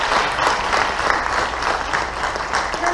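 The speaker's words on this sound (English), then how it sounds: "So we want to give them a round of applause too." A crowd at a school board meeting claps steadily and continuously, a dense patter of many hands at moderate volume.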